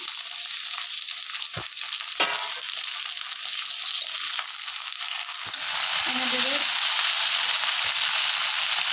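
Drumstick (moringa) pieces, potato and onion frying in a pan, a steady loud sizzle with occasional clinks and scrapes of stirring, swelling slightly louder near the end.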